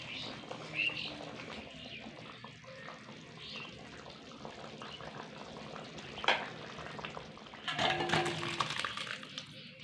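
A soybean and potato curry bubbles and simmers in a pan while being stirred, a soft continuous crackle and burble with occasional clinks and scrapes, growing busier near the end.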